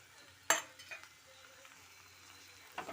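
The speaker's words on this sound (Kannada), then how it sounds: "ಸಣ್ಣ ಉರಿಯಲ್ಲೇ ಹುರಿಬೇಕಿದನ್ನು." Upma mixture with coriander and grated coconut is fried over a low flame, a quiet sizzle broken by a sharp utensil clink near the start and another soft stir near the end.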